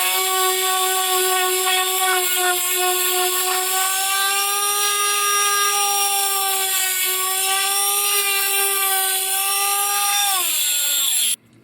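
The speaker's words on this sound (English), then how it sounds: "I can spin it and use it kind of like a lathe with some sandpaper to get a nice smooth finish on the surface" A homemade spinning top whirls steadily on a high-speed launcher built for 20k RPM while sandpaper smooths its surface like a lathe, giving a loud, continuous whining hum that holds for about ten seconds before abruptly cutting off.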